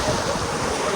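Ocean surf washing near a sandbar on an island-hopping trip in Punta Tierra, a steady close wash of waves mixed with wind buffeting the microphone, with no break over the short stretch.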